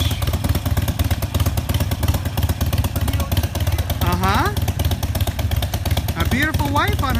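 A Harley-Davidson Sportster 883 motorcycle with a loud aftermarket exhaust runs close by, its pulsing engine note steady throughout, with brief voices breaking in over the rumble.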